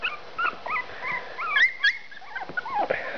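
A female runt puppy from a litter whimpers and yips in a string of short, high, wavering cries, close and fairly loud, with no voices over them.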